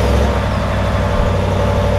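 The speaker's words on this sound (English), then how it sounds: "the exhaust on both of them will sound identical" A 2020 Ram 1500 pickup truck engine starts and runs loud and close, its deep exhaust rumble holding steady with a droning low roar throughout.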